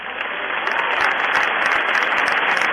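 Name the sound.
audience applause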